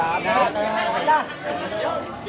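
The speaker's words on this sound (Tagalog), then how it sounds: "Sigawan na." Several voices shout and call over one another at a busy fish market auction in Tanza, Cavite, a close, steady babble of overlapping bids and chatter.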